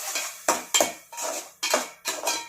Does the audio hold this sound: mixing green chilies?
yes